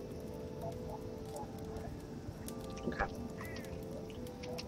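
Birds in the video game Starbound: a steady bed of game ambience with scattered quacking and honking bird calls, some brief chirps, heard faintly with no talk.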